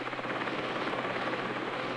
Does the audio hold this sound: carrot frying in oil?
no